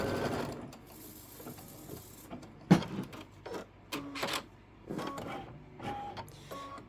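An embroidery machine whirs and clatters in short mechanical bursts while stitching a bunny's inner ear placement line, with stops and starts and a sharp knock partway through, close by with no talking.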